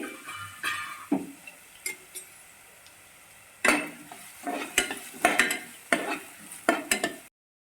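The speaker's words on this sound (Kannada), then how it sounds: "ಆ ಈರುಳ್ಳಿಯನ್ನು ಹಾಕೊಳ್ಳೋಣ ಈ ಈರುಳ್ಳಿ ಕೆಂಪು ಆಗುವಂಗೆ ನಾವು ಹುರ್ಕೋಬೇಕಾಕೈತಿ" Chopped onions fry in a pan for egg bhurji, with a soft sizzle under repeated bursts of stirring, scraping and a few utensil clinks against the pan; no one speaks.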